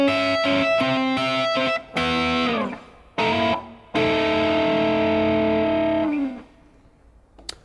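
An electric guitar plays a blues shuffle lick with distortion and effects, a run of quick picked notes followed by a long sustained note with a slide, ringing loud and clear before fading out.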